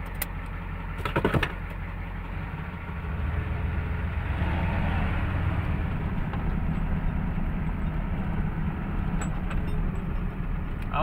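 A turbocharged IDI diesel truck engine pulls under load, its low droning rumble swelling and then holding steady and loud while it builds boost, with faint clicks near the start.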